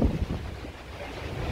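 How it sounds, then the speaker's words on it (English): Storm wind buffets outdoors near the water on a day with the power out and trees down, a continuous rough rumbling gust with some wind noise on the microphone, briefly louder at the start. "But it is windy and the power's out."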